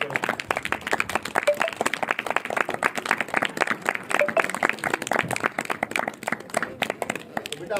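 Children at a Republic Day celebration clap to welcome guests, a lively, slightly uneven burst of many small hands with strong rhythmic pulses that gradually thins toward the end.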